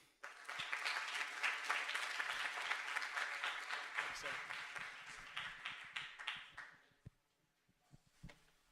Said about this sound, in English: we would like to give a big round of applause for Washley